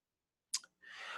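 A single computer mouse click while opening a course module, a short sharp transient followed by a quiet breath-like noise, close and alone with no talking.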